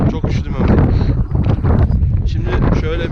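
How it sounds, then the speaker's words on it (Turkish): Heavy wind buffets the microphone with a constant low roar and rustling gusts, loud and close throughout. "Bayağı rüzgar esiyor yani"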